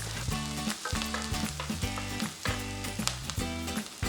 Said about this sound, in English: I'm going to be adding my garlic and I will also leave that to cook for a minute.